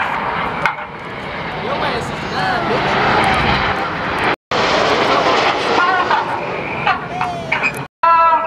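Red Arrows display jets roaring overhead at an air show, a loud sustained rushing jet noise that swells and fades with brief cuts, while an announcer and crowd talk beneath.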